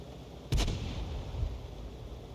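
A single heavy KV-2 tank cannon shot in a World of Tanks battle, one sharp booming report followed by a short rumbling tail, with a fainter thud a moment later.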